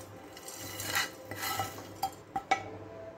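Cooked roast scraped from a pan into a bowl, a few light metal-on-dish clinks and scrapes, faint and close, spaced over a quiet background.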